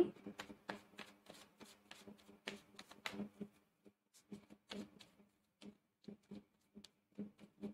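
Tarot cards are shuffled by hand in quick riffling bursts, a dense flurry of papery flicks and snaps that thins into scattered taps, close and fairly quiet, with no talking.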